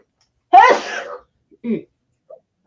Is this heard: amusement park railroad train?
no